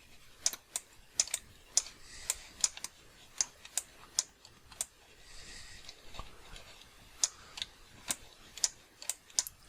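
A computer mouse clicks repeatedly while sculpting a model in Blender, with sharp close clicks in uneven bursts, some paired, over a quiet room background.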